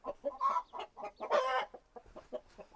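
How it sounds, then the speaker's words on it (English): Chickens cluck in short, uneven bursts close up inside a homestead coop at sunrise, with no talking. "We'll let the other chickens out."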